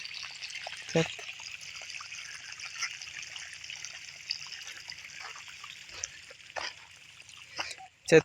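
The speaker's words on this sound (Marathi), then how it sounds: "त्याच्यामुळे आज आम्ही पाणी सोडलंय." Water released into a rice field flows and trickles in a steady, soft stream, fairly quiet and continuous, with a few brief louder splashes or knocks scattered through.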